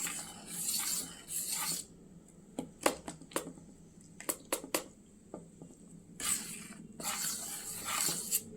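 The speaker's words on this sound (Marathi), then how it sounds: "आता हे परत व्यवस्थित असं मिक्स करून घेऊया।" Cake batter with milk whisked in a bowl, bursts of wet scraping and beating strokes alternating with quieter stretches of sharp taps against the bowl, close and alone.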